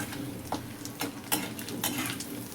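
Sun-dried lentil vadiyan dropped into hot oil, giving a soft, continuous frying sizzle with a few light stirring clinks, fairly quiet and without speech.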